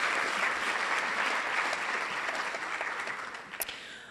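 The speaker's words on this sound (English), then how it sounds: "let's congratulate these grant recipients with a round of applause" Crowd at a school readiness rally applauding grant recipients, a sustained, dense round of clapping that holds steady and slowly tapers near the end.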